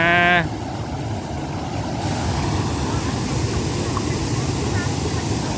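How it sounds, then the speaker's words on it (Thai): Strong rushing water at Pang Sawan waterfall in Uthai Thani, a steady, unbroken broadband roar close by, with a brief tonal sound at the very start. "แหมน้ำไหลแรงอยู่นะ"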